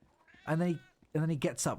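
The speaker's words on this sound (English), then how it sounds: "Oh, that was the cat." A cat in the game Lost Ark lets out two loud, drawn-out meows in quick succession, close and clear, with a brief gap between them and a voice talking alongside.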